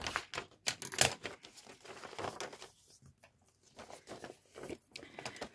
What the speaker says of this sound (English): Now with my scissors, I'm gonna cut these bottom pieces,